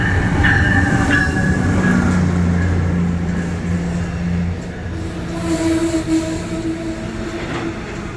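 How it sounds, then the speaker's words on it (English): A MARC Penn Line commuter train rolls into a station with loud rumbling, squealing wheels and rail noise, slowing as it comes alongside the platform. "Once my train arrived, I went onto the platform"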